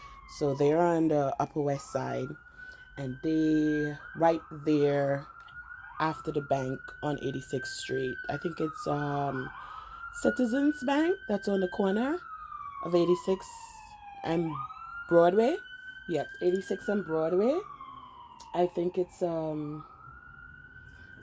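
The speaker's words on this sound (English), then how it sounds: "sorry about the sirens in the background." Emergency vehicle sirens wail repeatedly on a busy street on Manhattan's Upper West Side in New York City, rising and falling sweeps that sound close and loud, while a person keeps talking over them.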